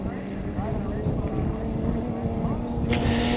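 A vintage-class racing boat's engine drones steadily at a distance over the water at a Moses Lake boat race, while someone talks over it, the motor rising slightly toward the end.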